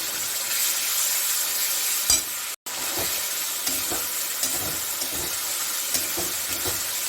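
Spice paste with turmeric fries in hot oil in a low-oil home curry, giving a steady close sizzle with stirring scrapes and light clinks, broken by a brief silent gap.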